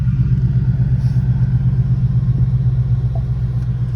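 2018 Ford Mustang GT with a 5.0L V8 and AWE Touring catback exhaust, a loud, steady deep burbling idle rumble heard up close and alone.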